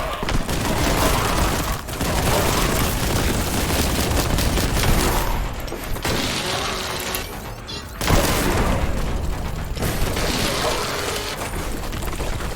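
Loud, dense combat blasts and rapid gunfire fill a Warhammer 40k: Boltgun firefight, with a crack grenade going off among sharp booms and shattering debris; a voice speaks under the din at times.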